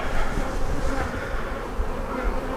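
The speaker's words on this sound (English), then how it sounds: "Quite a ball of bees on the bottom of the" A dense, steady drone of many honeybees from an aggressive colony buzzing close by, loud and continuous without pause.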